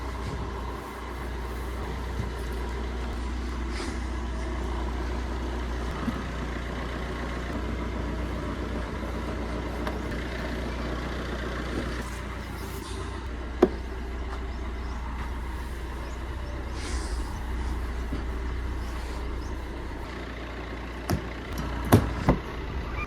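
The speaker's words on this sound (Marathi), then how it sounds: "तर भावानो दुसरा स्टार्ट घेतलेला आहे गाडीने, पहिला नाही घेतला कारण थंडीमुळे थोडी गार पडती" A vehicle engine, caught on the second start after being cold, runs steadily at a low idle for over twenty seconds, with a few faint knocks and clicks nearby and no talking.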